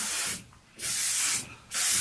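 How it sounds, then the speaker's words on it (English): Dove hairspray hisses onto hair in short pressurised bursts, three close, loud sprays separated by brief pauses, with no talking. "with this Dove hairspray, which is not the one I usually use, but I've been liking it. So just spray it to set it."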